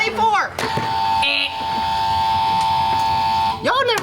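Game-show buzzer pressed repeatedly, a flat sustained electronic tone held for about two seconds, with people talking just before and after it.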